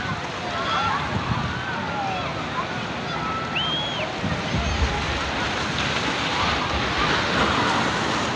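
Steady broadband roar of ocean surf washing in continuously at Lampuuk beach, Aceh, with faint distant voices and a brief high whistle-like call over the wash.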